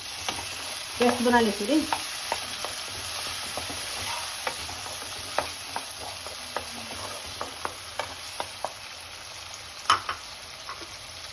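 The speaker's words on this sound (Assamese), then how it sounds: "ইয়াত এতিয়া কাটি ৰখা বিলাহীখিনি ইয়াত দি দিব লাগিব।" Chopped tomatoes fry in a pan for an egg bhurji masala curry, giving a quiet, steady sizzle with scattered clicks and pops of stirring. A voice speaks briefly near the start.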